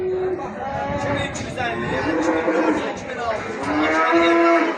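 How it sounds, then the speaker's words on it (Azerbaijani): Bull calves mooing at a livestock market for sheep, goats and cattle, with several overlapping drawn-out lowing calls, fairly close and loud, over a busy background of people talking and crowd chatter. "Erkək danalar."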